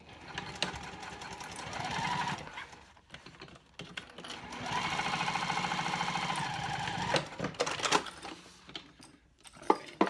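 A sewing machine stitches a 1/4 inch seam through cork fabric for a clutch wallet, running in two sustained bursts of rapid mechanical whirring separated by short pauses, with clicks and handling noises in between.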